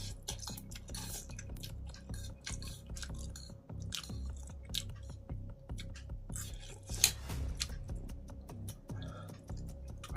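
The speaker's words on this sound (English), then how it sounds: "I bit into the chili." Bird's eye chili being bitten and chewed up close, wet crunchy mouth sounds repeating steadily with faint kitchen clatter behind, no talking.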